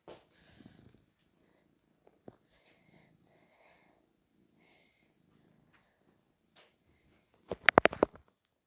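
A cat purrs very quietly and close, a low intermittent rumble in a quiet room, broken near the end by a short burst of rustling and tapping.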